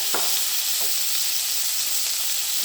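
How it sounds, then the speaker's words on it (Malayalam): Ingredients for tomato chutney, with curry leaves, sauté in hot coconut oil in a pan. They give a continuous close sizzle broken by a few faint stirring scrapes. "ഇതൊക്കെ ഒന്ന് വഴറ്റണം"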